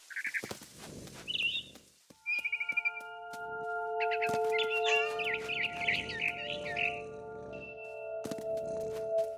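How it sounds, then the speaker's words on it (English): A barn swallow in the video game What Remains of Edith Finch gives bright, high chirps in short bursts, then a longer twittering run, all fairly faint over sparse sound-effect clicks and tones. "Then I heard chirping outside my window. It was a barn swallow going back to her nest."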